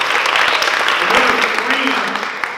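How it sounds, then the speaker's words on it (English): Audience applause at a 2019 awards ceremony, a dense steady wash of clapping lasting the whole stretch, with some voices mixed underneath. "let's give her a round of applause"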